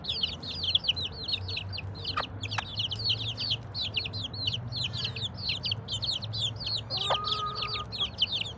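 Hens and chicks on an organic farm feeding among mustard plants, with a constant chorus of high peeping chicks and occasional clucks from the hen over a low background hum.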